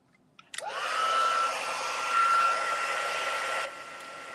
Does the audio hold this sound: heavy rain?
no